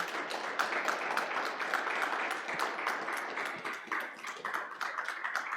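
A conference audience at AlmaLinux Day Germany breaks into sustained, dense applause for the panelists, a steady wash of many hands clapping with no talk over it.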